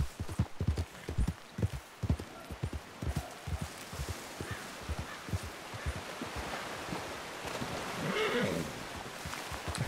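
Horse hooves clop in a quick rhythmic gait in Red Dead Redemption 2, close and distinct at first, then fading into softer ambient rustle and a splash of water.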